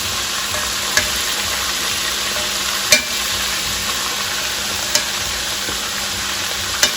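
Squirrel pieces frying in a pan, a constant steady sizzle with a few sharp clicks at regular intervals, close and without talk.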